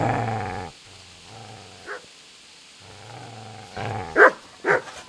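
A dog in the medieval video game Kingdom Come Deliverance growls low and steadily, pauses, then breaks into a couple of sharp, close barks near the end, with no talk over it.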